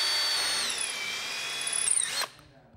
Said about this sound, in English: now what we're gonna do is drill our hole